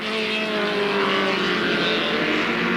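Race cars lap Alwalton Raceway in 1983, loud engines roaring continuously as the pack passes close, rising and overlapping without a break.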